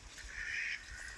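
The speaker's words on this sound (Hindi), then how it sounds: "देखिए बतख, कितना खूबसूरत बात है, बतख भी मिल गया इधर" A duck at a fish farm pond gives one short nasal call, faint and somewhat distant, over outdoor background noise.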